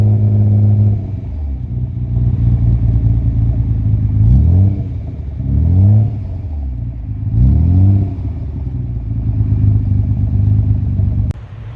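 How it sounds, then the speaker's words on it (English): BMW 650i engine with a misfire, idling roughly with a lumpy, uneven rumble and three repeated revs that rise and fall, close and loud, no talking. "It's got a bit of a misfire."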